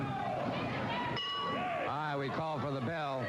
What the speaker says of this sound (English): We call for the bell